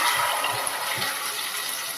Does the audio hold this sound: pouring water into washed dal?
yes